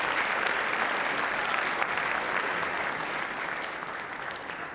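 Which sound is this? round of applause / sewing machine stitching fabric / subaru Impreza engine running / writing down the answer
round of applause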